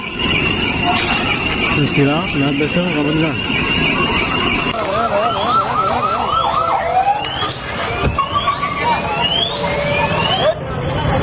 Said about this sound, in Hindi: एम्बुलेंस और फायर ब्रिगेड की भीड़ लगी थी